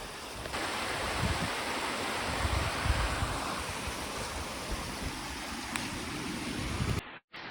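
Water rushes steadily at a stream crossing on a hiking trail, a constant broadband roar close to the microphone that continues throughout and cuts out briefly at the very end.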